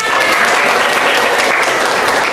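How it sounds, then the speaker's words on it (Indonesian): Students in a classroom clap together in a loud, dense burst of applause, close and continuous for a couple of seconds without talking. "Iya, tepuk tangan."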